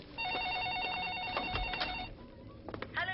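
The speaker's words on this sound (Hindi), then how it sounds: "फोन बज रहा है। तू उठा ले।" A telephone in the film Shaun of the Dead rings in a steady, repeating electronic pattern for about two seconds, then stops, followed by a brief rustle and a short voice.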